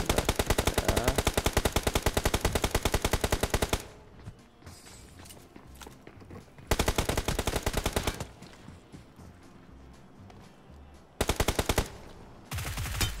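A shooting video game plays loud, rapid automatic gunfire in three long bursts, separated by quieter stretches of scattered distant shots and game noise, with no speech.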